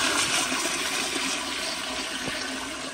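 A 2009 Proflo Gilpin elongated pressure-assist toilet flushing, a loud forceful whoosh of rushing water that holds strong then gradually eases, close and alone with no talking.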